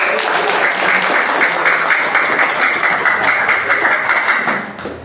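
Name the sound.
audience applause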